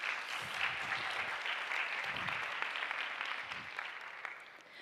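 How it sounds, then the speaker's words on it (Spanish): A conference audience at WordCamp 2020 in Málaga applauds a speaker, a steady wash of many hands clapping that holds for several seconds before tapering off. "Un aplauso para ella"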